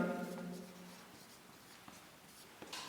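Writing out an equation during a Class 10 maths lesson makes faint, soft scratching strokes. They run quietly across the clip after a brief voice at the very start.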